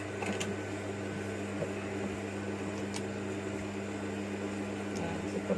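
A sewing machine stitches a knit wangki collar onto a T-shirt, its motor giving a steady, even hum with faint mechanical clicks throughout, close and moderately quiet, with no voices.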